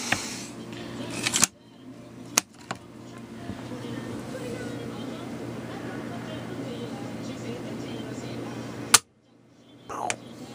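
The bolt of an M24 Mosin Nagant rifle is worked one-handed, giving a few sharp metallic clacks and snaps separated by quieter handling noise, close and fairly loud.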